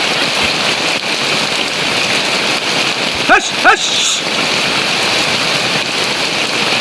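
Steady rain falls, likely during the rainy season at a village home where ducklings huddle together, as a dense even hiss throughout, with two brief chirping calls in the middle.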